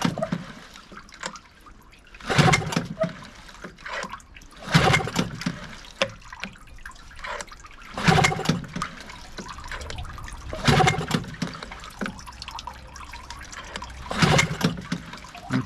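Water splashes and trickles from the telltale of a Hangkai 6hp two-stroke outboard on its first start-up in water, in repeated bursts of splashing every couple of seconds over a steady wet background.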